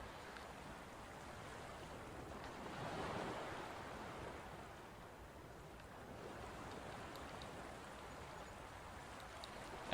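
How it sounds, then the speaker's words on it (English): Sea waves crash and wash steadily for the whole stretch, a broad roaring surf that swells slightly midway, with some wind and no voices. "Sounds of the sea."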